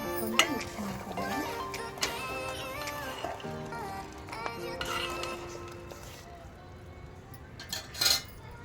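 A spoon stirs salt into village-style horse gram curry in a pot, giving off scattered metallic clinks and scraping taps at an irregular pace, some louder knocks near the end, with soft talk underneath.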